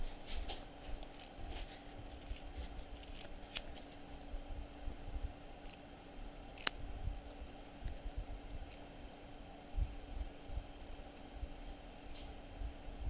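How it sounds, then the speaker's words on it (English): Quiet hand cutting of craft material for a miniature room box, with faint scattered snips and scrapes over a low steady background hum, near and soft throughout. "I'm getting all quiet because I'm cutting here"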